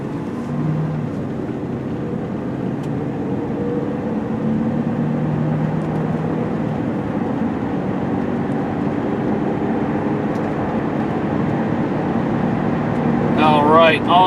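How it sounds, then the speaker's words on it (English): 2004 Mercury Grand Marquis sedan cruising on the road during a test drive, a steady low engine and road rumble with tire noise holding level throughout, a voice breaking in briefly near the end. "hop in this 2004 Mercury Grand Marquis and take it for a quick test drive"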